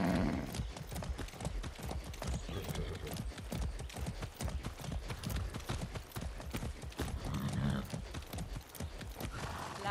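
Horse hooves galloping in Far Cry 6, a fast, continuous clip-clop rhythm throughout, loud and close with a brief whinny, no talking over it.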